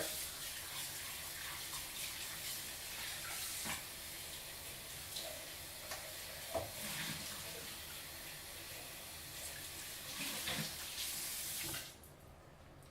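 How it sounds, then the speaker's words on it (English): Running tap water pours steadily with clinks and splashes as a blender is rinsed, then the flow cuts off abruptly near the end. "Then I'm going to give a quick rinse to my blender."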